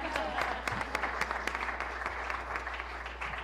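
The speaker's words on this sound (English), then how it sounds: "One more round of applause because she went first." An audience claps at a leadership challenge event, a steady patter of many hands applauding throughout the short stretch.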